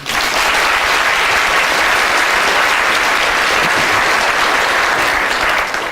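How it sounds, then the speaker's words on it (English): Audience applause at a talk on the brain and perception, a dense, steady roar of clapping that stays loud and even for the whole stretch with no voices over it. "So I think it's a big round of applause for Albert Einstein."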